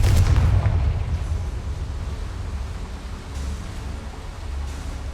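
Confringo fire spell blast in Hogwarts Legacy: a loud, booming burst at the start with a deep low rumble that decays into a sustained roar of noise, no speech over it.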